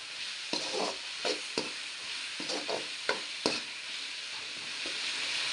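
Mutton and chopped tomatoes sauté in a pan with a steady hissing sizzle, broken by a series of close, repeated stirring scrapes from a spatula, with no one talking.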